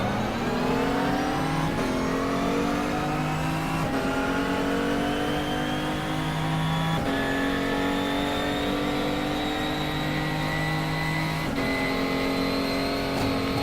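GT-class race car in GTR2 at Spa, engine held at full throttle with a steady loud rising whine, each climb broken by quick upshifts, close and continuous with no talk.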